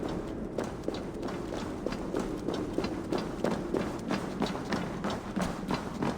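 Hooves clip-clop in a steady running rhythm in a video game, each footfall a sharp tap over a low rumbling background, continuing evenly throughout.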